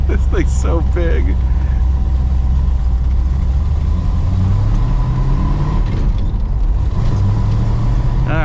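The big carbureted engine of a Dodge Charger idles and rumbles low while warming up, a steady drone from inside the car with occasional rev changes as a person talks over it.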